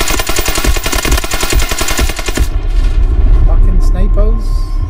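Heavy gunfire and incoming artillery in the Delta Force: Hawk Ops video game, with rapid automatic bursts for about two and a half seconds, then booming impacts and scattered shots, with voices speaking over the battle.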